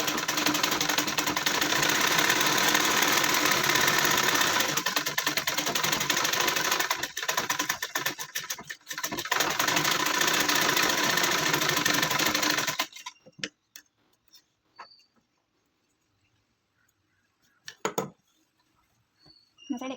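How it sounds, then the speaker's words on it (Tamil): A sewing machine stitches a 3-year-old child's gown, running in a steady rapid mechanical whir for about thirteen seconds before stopping, leaving near silence broken by a few faint clicks and handling sounds. "இது மேலே இன்னொரு தையல் போட்டுக்கலாம்."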